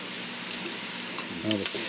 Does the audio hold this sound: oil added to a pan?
yes